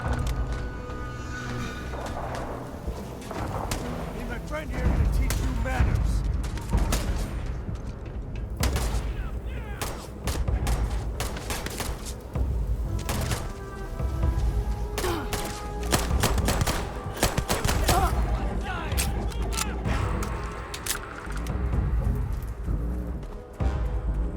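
Turret gunfire in the video game Starfield: rapid, dense bursts of sharp shots repeat almost without pause through the whole stretch, mixed with booms and other game effects.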